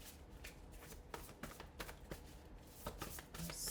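A deck of oracle cards is shuffled in a quiet room, a run of soft riffling flutters and crisp card slaps, close and steady, with no talking.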